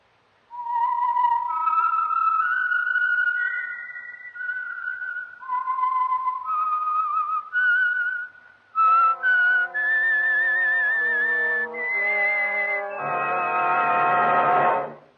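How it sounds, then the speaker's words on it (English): A solo whistler carries a slow, wavering signature melody for a radio program, then orchestral chords swell in behind it and the piece builds to a loud, full finish. "the signal to listen for is this whistle that identifies the Signal Oil program"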